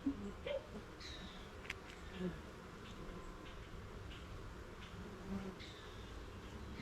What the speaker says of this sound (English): here we've got a bunch of worker bees just buzzing around